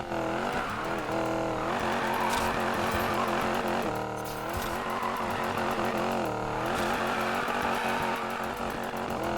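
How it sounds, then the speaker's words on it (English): Chevy Bel Air drift build in the video game Need for Speed Payback, its engine revving and rising through gears with tire squeal, loud and continuous with repeated up-and-down pitch sweeps. "Start testing out the car."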